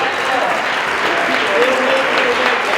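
A conference audience applauds a speaker, loud dense clapping that fills the room throughout, with a voice briefly heard over the crowd.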